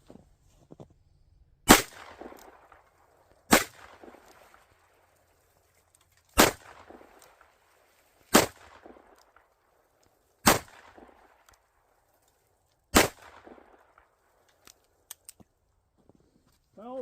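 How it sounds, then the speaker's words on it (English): Six sharp, loud .44 Magnum gunshots fired outdoors on a farm, spaced about two seconds apart, each with a short echoing tail, followed by faint handling clicks. "All right, 44 mag again."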